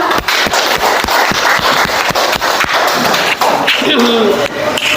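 A classroom of students claps for a presenting group, sharp individual claps ringing out irregularly and close, with some voices mixed in near the end.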